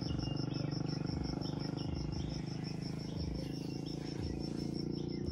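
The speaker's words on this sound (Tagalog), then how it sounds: "At huni ng ibon." Soft bird chirps come and go over a constant high insect trill and low background hum, distant and fairly quiet.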